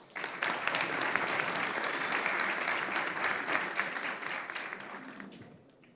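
Audience at a finance summit applauding, a dense sustained round of many hands clapping that swells quickly, holds steady and tapers off at the end.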